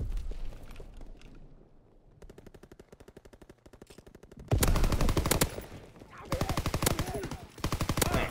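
Video game gunfire rattles in rapid automatic bursts. It starts fainter and distant, then turns loud and close with long sustained volleys and brief pauses between them.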